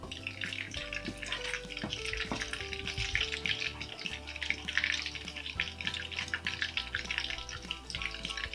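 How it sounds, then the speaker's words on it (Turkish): Butter heating in a pan on a stovetop for Turkish yayla soup, a steady crackling sizzle with scattered pops and occasional stirring clinks, fairly close and continuous, no voices. "Ve şimdi tereyağımı güzelce kızdıracağım."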